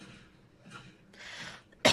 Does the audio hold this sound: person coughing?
yes